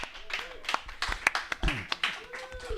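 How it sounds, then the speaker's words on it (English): A small group in a live recovery-themed radio show studio gives scattered, uneven claps welcoming a guest, mixed with voices talking and exclaiming close by. "Give Charles a nice round of applause."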